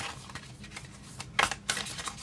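Thick cardstock oracle cards being shuffled by hand, soft papery riffles and flicks with two sharper bursts of cards slapping together, close and quiet with no talking.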